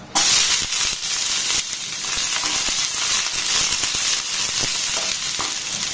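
Chopped onion dropped into hot oil with whole cumin seeds sizzles and hisses loudly and steadily, with occasional stirring scrapes, up close.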